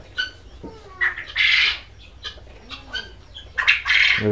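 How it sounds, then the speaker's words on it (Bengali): Small Japanese quail on a farm give sharp squawks and chirps, with a brief burst of wing flapping, nearby and moderately loud. "এই যে আমার কোয়েল পাখি, অরিজিনাল জাপানি কোয়েল পাখি।"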